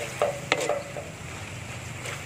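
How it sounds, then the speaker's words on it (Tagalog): Arroz valenciana stirred in a pot during outdoor garden cooking, heard as a few close spoon scrapes and light clinks over a soft, steady sizzle, with no speech. "Halu-haluin lang natin guys."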